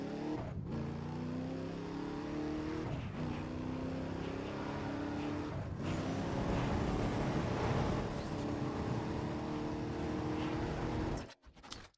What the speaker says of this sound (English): cop car sounds like Mustang from Need for Speed Most Wanted